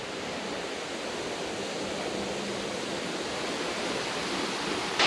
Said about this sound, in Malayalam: വെള്ളച്ചാട്ടം കാട്ടിത്തരുന്നുണ്ട്